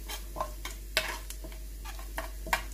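Hot oil crackles and sizzles as dried red chillies and asafoetida temper in it, with scattered sharp pops and spoon clinks, fairly close, with no talking.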